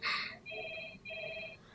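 A telephone rings in two even electronic trills, fairly faint, inside a Sherlock episode, with other sound before the rings.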